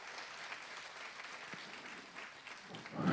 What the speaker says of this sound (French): Est-ce qu'on peut applaudir l'amour du Père